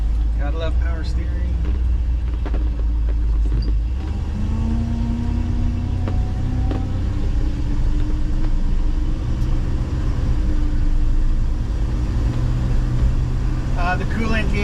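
A 1973 Ford F250 pickup engine rumbles steadily while driving on a cold morning, with low drone and gear-shift changes in pitch throughout, fairly loud and continuous.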